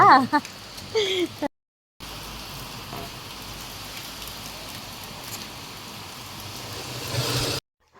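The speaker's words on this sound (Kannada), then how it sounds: "ಜೋರು ಮಳೆ ಸೊ ನೋಡ್ತಿರ್ಬೋದು" Heavy rain pours down outdoors as a steady, even hiss, following a brief moment of someone talking and a short silent gap.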